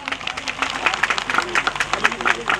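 Crowd at a public rally in Dodhara Chandani clapping to welcome a guest, dense scattered claps over a murmur of voices, fairly loud and close throughout.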